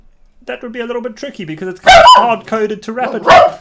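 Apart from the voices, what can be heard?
dog barking at a pigeon outside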